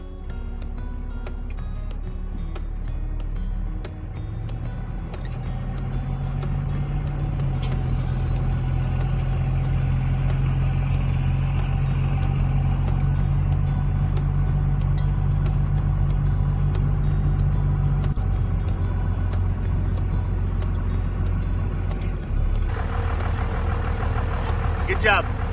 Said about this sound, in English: all I care about is getting my truck on top